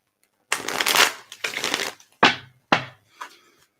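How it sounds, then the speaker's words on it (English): A deck of playing cards is shuffled in a few quick riffles and snaps, close and crisp, separated by brief silences. "that was a bad shuffle"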